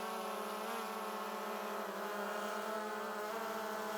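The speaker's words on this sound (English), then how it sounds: "So the drone is going up to about" Multirotor sensor drone climbing to about five feet gives off a steady, loud high-pitched buzzing whine with layered harmonic tones that shift slightly in pitch, close by and uninterrupted, with no talking.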